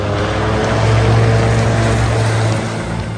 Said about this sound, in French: Le tracteur Claas Action 940 emmène 3 faucheuses à travers un sorgho dense.